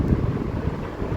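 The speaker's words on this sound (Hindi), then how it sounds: "बारिश का शोर आपको बैकग्राउंड में सुनाई दे रहा होगा।" Heavy rain and strong wind outdoors on a rainy Sunday, a dense continuous low roar with gusty rumbling buffeting the microphone, steady and loud throughout with no talk.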